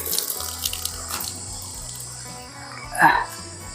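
Hands being washed under a running tap: steady water flow with splashing and a brief louder gush near the end, while people talk nearby.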